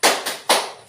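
Children clap a rhythmic classroom cheer in unison, two sharp group claps ringing out close together, loud and bright, with no voices over them.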